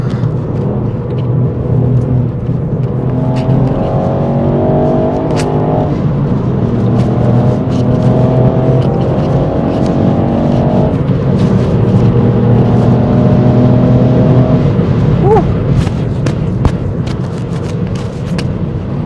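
Race car engine in a video game, a steady loud droning whir that climbs and falls in pitch through repeated revs and gear changes for nearly twenty seconds, with no talk.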